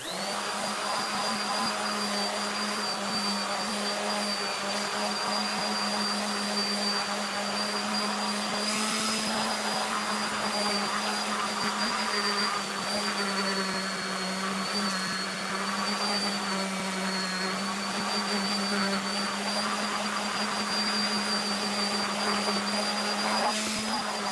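An electric sander works resin art with 220-grit paper, giving a steady, loud droning whir with a constant pitch that runs throughout without pause.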